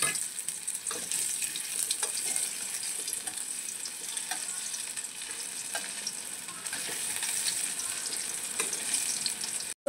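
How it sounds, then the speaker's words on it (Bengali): Potato pieces lightly frying in hot oil for an egg kofta curry, a dense continuous sizzle with occasional spatula scrapes and small pops, steady and close throughout. "তেলের মধ্যে আলুগুলোকে হালকা করে ভেজে নেব।"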